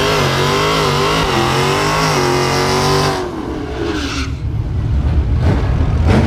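A Dodge Challenger ScatPack launches hard down a drag strip, its loud engine roar climbing through the gears for about three seconds, then fading into rumbling noise as it pulls away.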